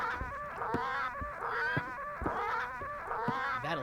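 Parrots squawk and chatter in the video game Return to Monkey Island, a run of harsh, wavering bird cries repeating in quick bursts, fairly close and loud with no speech over them.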